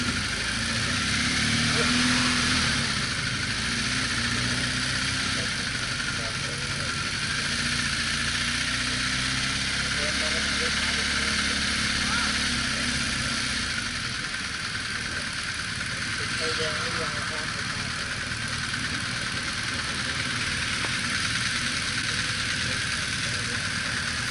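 A BMW R1200GS Rallye motorcycle rides along a road beside the Mekong, its steady engine drone running beneath constant heavy wind rush for the whole stretch, with a faint voice now and then.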